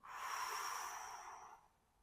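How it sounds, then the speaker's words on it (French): A long, full exhalation through the nose during a gentle lower-body yoga stretch, a soft breathy rush lasting about a second and a half before fading, close and quiet with no talk. "Expirez complètement."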